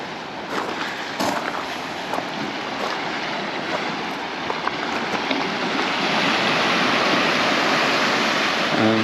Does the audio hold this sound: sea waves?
yes